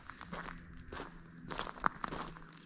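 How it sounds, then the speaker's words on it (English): Footsteps crunch outdoors on a quiet rural property in South Central Alaska, several slow, close steps with soft rustling in near silence. "The fact you can hear every one of my breaths and my footsteps just shows you how quiet it is."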